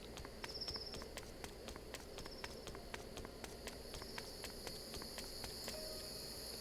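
Crickets or grasshoppers chirp steadily in a video game night scene, a continuous shrill insect trill with faint repeated ticking and soft footsteps underneath.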